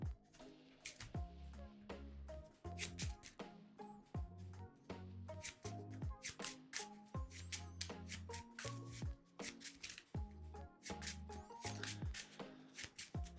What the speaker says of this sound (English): Alright, so these get shuffled back in.